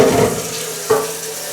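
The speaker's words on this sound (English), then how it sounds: "going to wash the cookie jar and I'll be right back" Kitchen tap water running steadily into a sink to wash a cookie jar, a close, continuous splashing rush with a small knock partway through.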